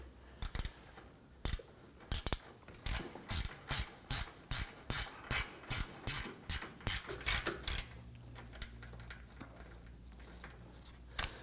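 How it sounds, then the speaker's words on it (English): A hand ratchet tightens the front lower control arm bolts on a 2003-2014 Volvo XC90, clicking in a steady run of about a dozen sharp strokes close by, then falling quiet. "Now we're just going to get our forward bolts started."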